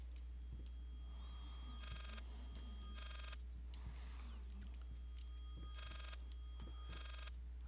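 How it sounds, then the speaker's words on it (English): A house phone rings in the Layers of Fear video game, sounding bursts of bright electronic trilling repeated at steady intervals with short gaps, moderately loud over a low hum, with no talking. "I used to have a house phone that made a noise like that, but it wasn't that noise."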